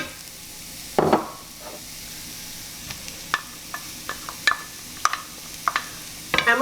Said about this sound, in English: I'm just going to add in our onion and our jalapeno